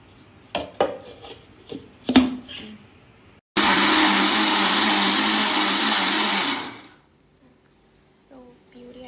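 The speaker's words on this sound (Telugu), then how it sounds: "సో గాయస్, మ్యాంగోస్ వేసేసుకొని దీంట్లో ప్యూరీ చేసుకుందాం." A kitchen blender purees mango for homemade ice cream, running in one loud steady whir for about three seconds, then spinning down; a few clinks and a voice come before it.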